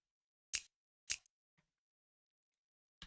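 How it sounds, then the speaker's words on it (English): Short, crisp clap samples from an Amapiano drum pattern, dry with no vocoder, sound as isolated sharp hits: two close together, a faint tick, then another clap after a pause. "this is just a simple clap"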